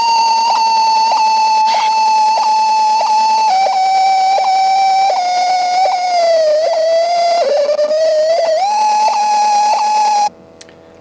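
A circuit-bent cassette tape player, its motor slowed by resistors soldered in series to switches, drones a steady buzzy electronic tone. The pitch dips and wavers in steps, then cuts off abruptly near the end, with no talking.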